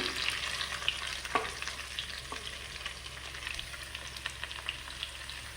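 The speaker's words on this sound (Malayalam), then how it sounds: "അപ്പോൾ സവാളയും ചെറിയ ഉള്ളിയും ചേർത്ത് കൊടുത്തു, പച്ചമുളകും. അപ്പോൾ ഇത് നന്നായി ഒന്ന് വഴറ്റിയെടുക്കാം." Onions, shallots and green chilies sauté in a pan for a chicken curry, making a continuous close sizzle and fry broken by scattered clicks and scrapes of stirring, with no voices.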